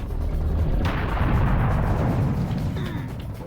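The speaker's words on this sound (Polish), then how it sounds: "Coś do mnie strzela" Loud, dense gunfire in the shooter game Serious Sam, a sustained barrage of rapid booming shots and blasts aimed at the player, continuous and close throughout with no voice over it.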